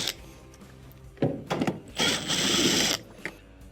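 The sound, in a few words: removing two T20 Torx screws from washer console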